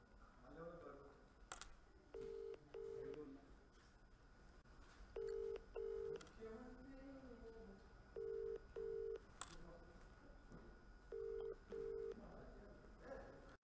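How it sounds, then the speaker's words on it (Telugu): A phone redials after a dropped call, giving a ringback tone in evenly spaced paired rings that repeat four times. The tones are quiet and close, with faint background noise and clicks between them. "ఓ కాల్ కట్ అయింది, మళ్ళీ చేస్తాను."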